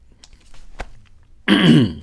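A few faint throat noises and small coughs, then a louder, raspy throat-clearing burst near the end, close by.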